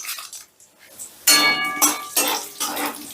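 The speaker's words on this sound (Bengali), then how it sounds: "ফোড়নটা একটু নাড়াচাড়া করে নেব।" Bay leaves, cardamom, cinnamon, whole cumin and cloves stirred in hot oil and ghee in a pot for pilau, giving loud bursts of metallic scraping and clinking against the pot with short pauses in between.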